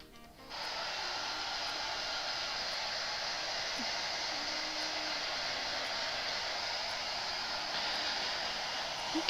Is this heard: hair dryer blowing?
yes